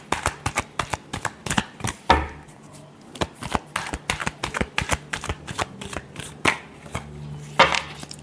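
A deck of tarot cards is shuffled by hand in quick bursts of riffling and slapping, close up, with irregular pauses between bunches.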